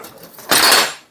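Workpiece being loosened and pulled out of a metal bench vise during a practical metalworking exam task: a brief, loud metallic scrape and clatter lasting about half a second, preceded by quiet rustling handling noise.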